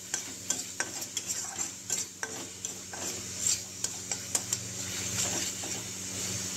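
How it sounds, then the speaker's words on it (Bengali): Aubergine and prawn masala with tomato sauce being stirred in a pan, a low sizzle under sharp, irregular clicks and scrapes of a spoon against the metal, close and fairly quiet. "ভালো করে নেড়ে নিচ্ছি"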